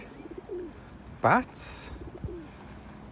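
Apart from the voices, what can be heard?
pigeons cooing in a park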